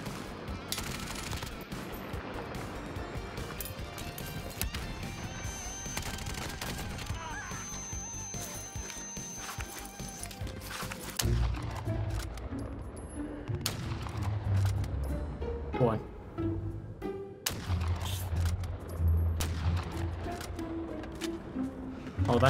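Groza assault rifle fired in Warzone: dense, continuous automatic bursts crackle through a busy game mix, heavier and louder in the second half, with talk over the gunfire.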